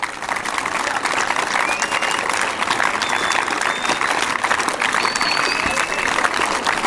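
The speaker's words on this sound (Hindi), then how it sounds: "भरपूर तालियां काज़िम अली शाह के लिए" Steady applause from an audience at a cadet appointment ceremony for senior cadet Kazim Ali Shah, continuous dense clapping at even volume with a few faint voices mixed in.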